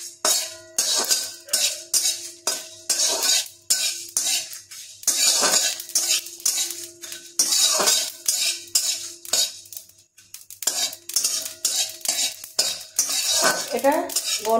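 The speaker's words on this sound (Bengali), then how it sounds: "জাস্ট হালকা কিছুক্ষণ একটু নাড়াচাড়া করে নিতে হবে।" Potato paratha filling stirred in a pan, a spatula scraping and clinking against the metal in steady repeated strokes, loud and close, with brief pauses between bursts.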